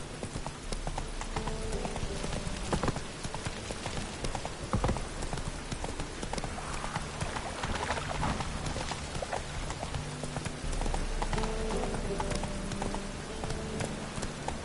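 Horse hooves clip-clop in a steady galloping rhythm inside a PS4 video game, loud and continuous throughout, with faint rain-like hiss in the background and no clear speech.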